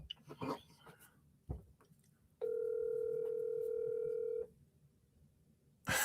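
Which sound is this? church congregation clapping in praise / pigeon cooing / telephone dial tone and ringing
telephone dial tone and ringing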